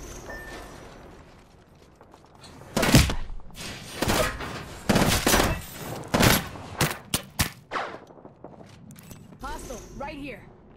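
Video game gunfire from Apex Legends on PS4 Pro: sharp bursts of automatic shots and single cracks come in clusters over several seconds, some loud and close, with gaps between volleys and quieter game ambience around them.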